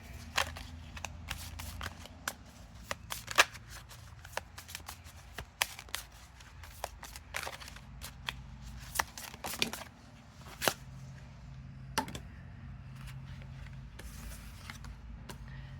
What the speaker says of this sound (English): Let's do a couple of oracle cards.